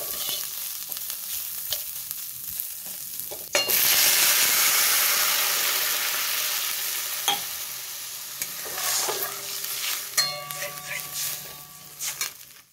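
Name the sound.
washed lentils being fried in oil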